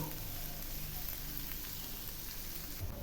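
Spices sizzle steadily in a hot pan as they are sautéed for a pickle-style brinjal curry, a close, continuous frying hiss with no voices.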